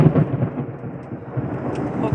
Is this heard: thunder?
yes